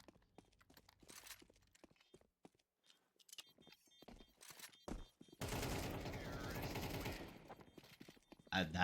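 Gunfire in Counter-Strike on the Inferno map: scattered sharp shots and brief bursts, then a dense sustained burst of firing, with an abrupt loud blast at the end, over faint background game sounds.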